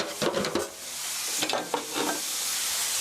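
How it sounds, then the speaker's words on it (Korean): Meat stir-fries in a hot pan with Welsh onion, leek and carrot for curry noodles, a steady loud sizzle broken by scraping stirring strokes, close up with no talking. "이렇게 볶아주시고요."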